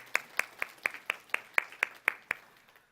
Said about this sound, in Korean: 서로를 향해서 따뜻한 사랑과 환영의 박수를 보내주시길 바랍니다.